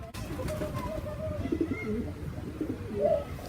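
A turtle dove coos in short, soft, low phrases at moderate distance, a few gentle calls spaced over a quiet, slightly noisy outdoor background.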